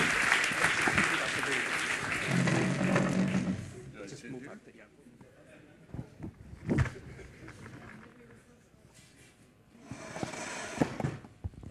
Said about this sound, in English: And applause, please.